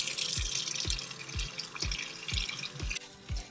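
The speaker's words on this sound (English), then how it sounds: "now I'm gonna rinse her hair" Water runs steadily while a Rainbow High doll's hair is rinsed, a close splashy flow with rhythmic dripping plops about every half second and no voices.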